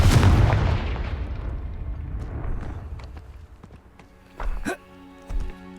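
A Confringo blasting spell detonates in Hogwarts Legacy with a loud, close boom at the start that rumbles and fades over several seconds, followed by a few smaller thuds and crackles.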